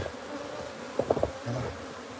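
Bees from a wild hive buzzing as they are moved into a new hive box, a close, steady hum with a brief louder swell of several insects passing near.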